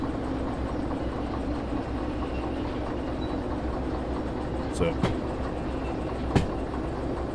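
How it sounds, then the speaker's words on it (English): A train coasting forward in the Derail Valley railway simulator game, a steady rolling rumble with faint wheel clatter and a few brief metallic squeals, a voice speaking briefly at the start. "let's just coast the train forward a little bit"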